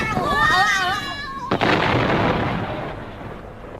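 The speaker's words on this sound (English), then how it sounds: "The giant capsule was today exploded and went bang." A radio comedy sound effect of a giant capsule exploding: a sudden loud bang cuts in after a warbling tone, followed by a long rumbling roar that slowly fades.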